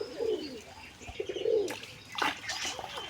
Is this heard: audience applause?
no